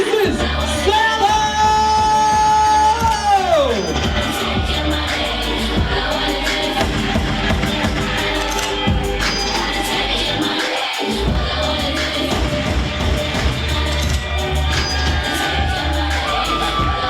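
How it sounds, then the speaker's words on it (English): Wedding guests loudly applaud and cheer for newlyweds, with dense clapping and whoops filling the room. Music plays throughout, fading briefly near the middle. "Let's get a thunderous round of applause for Crystal and Adam, the new Mr. and Mrs. S"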